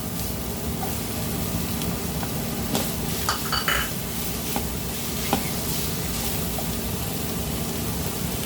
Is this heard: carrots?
yes